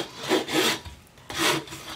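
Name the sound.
sanding block rubbing painted wooden memo board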